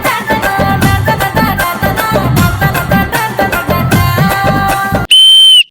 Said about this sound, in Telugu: ఈలేయడం అలా కాదు.